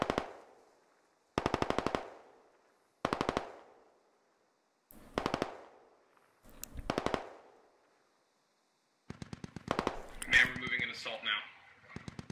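Machine gun fire in a Squad combat engagement, arriving as several sharp, loud bursts separated by short pauses, then a longer burst overlapped by radio-style voices near the end.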